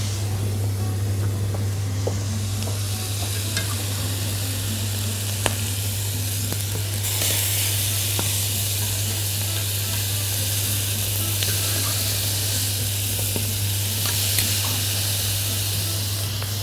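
Chicken pieces fry in a pan during cooking of honey orange chicken, giving a steady loud sizzle and hiss with occasional pops, alone and close.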